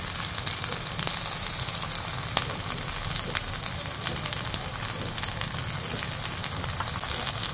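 Chopped onion with ginger-garlic paste sizzles steadily in hot oil for a spicy sea chital fish curry, a close, continuous crackling fry with small pops and no voices.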